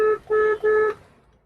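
A used car's alarm gives three short, loud electronic beeps in an even rhythm, then fades to near silence.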